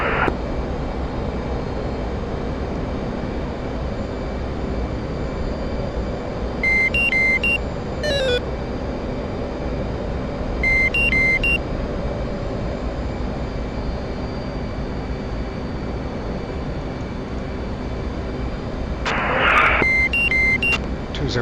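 An F/A-18 Hornet jet engine in DCS World on short final to a carrier in severe turbulence, a steady loud whining roar throughout, with periodic cockpit warning tones and chirps over the constant drone.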